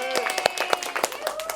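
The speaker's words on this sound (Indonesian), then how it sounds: "Tepuk tangan Bu, untuk kita semua." Classroom applause from students and teacher in a practice teaching lesson, a short burst of scattered, uneven hand claps close by, with voices mixed in.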